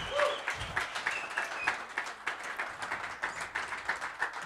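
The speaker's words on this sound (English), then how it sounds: "Let's give her a round of applause, Cameo." A dense crowd applause, steady and fairly loud throughout, with individual claps blending into a continuous patter.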